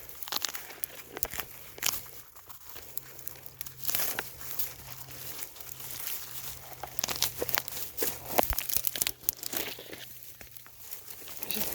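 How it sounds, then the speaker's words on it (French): Small crackling, crinkling and tearing sounds as the spiny tip of a prickly pear cactus pad is cut off outdoors, a close, irregular scatter of snaps and rustles under light background noise. "Donc je coupe la pointe de la raquette."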